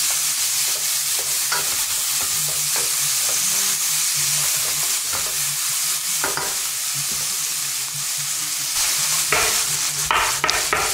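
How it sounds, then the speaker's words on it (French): Chopped vegetables and mushrooms sweat and sizzle steadily in a pan for a veal and asparagus dish, a continuous close frying hiss broken by scrapes and clicks of stirring. "Alors, on fait bien suer tout ça."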